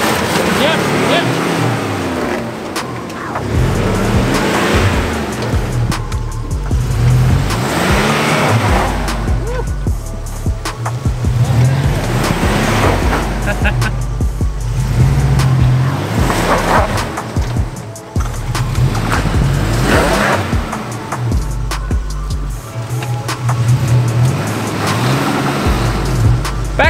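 A Ford Ranger Raptor 4x4 on 35-inch tires crawls off-road, its loud engine droning and surging through repeated revs with tire and chassis rumble, while people talk and give directions throughout.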